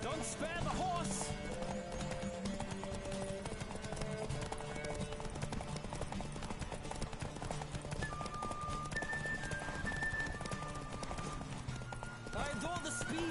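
Galloping horse hooves in The Witcher 3, a sustained rhythmic clip-clop running throughout beneath game music and a speaking voice.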